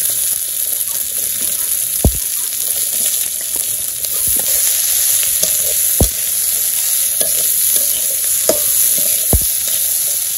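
Cooking oil hisses and sizzles steadily in a pan on a village stove, loud and close, with a few sharp knocks of a utensil as it is stirred; no talking.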